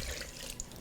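Hot water runs from a tap into a mixing bowl while making molasses cookie dough with lard and sugar, a short, steady, faint hiss of pouring liquid with no talk.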